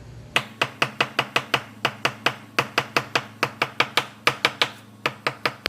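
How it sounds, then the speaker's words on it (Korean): A knife chops a peeled banana on a cutting board, a fast, steady run of sharp, close taps, about four per second, with no talking. "껍질 까신 후에 좀 잘라주시고요. 잘게 썰어요."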